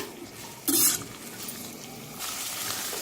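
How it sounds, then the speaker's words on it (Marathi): Mixed vegetables including capsicum and carrot frying in a pan for veg pulao, a steady soft sizzle with a brief louder burst of stirring and scraping midway, no talking. "आपण ह्या सगळ्या भाज्या याच्यामध्ये मस्त मिक्स करून घेऊ दोन तीन मिनिट फ्राय करून घ्यायचे"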